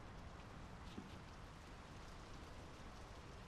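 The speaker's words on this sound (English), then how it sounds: "The rain's picking up." Rain falls in the game Draugen, set in 1920s Norway: a faint, steady wash of hiss with no distinct drops standing out and no voices.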